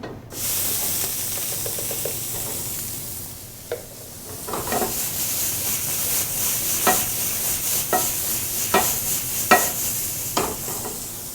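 Onion is tipped into a hot pan and sizzles loudly, a dense hissing spray that dips briefly and then continues, with repeated scraping stirs striking through it. No talking.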